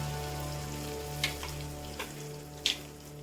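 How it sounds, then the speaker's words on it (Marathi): Tomatoes softening in hot oil in a home kitchen pan for a ridge gourd curry, with chutney about to go in; a steady low sizzle under a constant hum, broken by a few brief louder crackles and pops. "तेलामध्ये टमाटर हा शिजवायचा आहे. आता आपण त्याच्यामध्ये चटणी टाकूया चवीनुसार"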